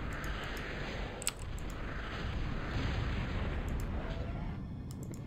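A crawling bomb blowing up in the Total Annihilation strategy game, heard as a steady, dull rumbling explosion wash with faint clicks and scattered crackles on top, sustained at moderate level throughout.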